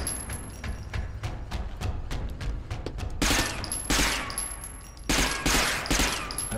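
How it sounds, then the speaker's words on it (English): Silenced assault rifle fire in a video game, with rapid bursts of muffled shots and clattering cracks, growing louder in dense clusters toward the end, with no voices over it. "Put a silencer on your assault rifle."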